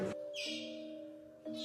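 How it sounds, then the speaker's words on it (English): Sharp echo off the El Castillo pyramid, resembling a bird call: a bright chirping reply with a steady tonal hum beneath, heard twice in quick succession, close and fairly loud. "were not designed and constructed to echo the voice of this bird."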